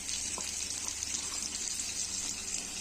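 Ginger garlic paste frying in a hot pan for a thin egg and potato curry, a steady dense sizzle running evenly throughout with faint stirring clicks and no talking.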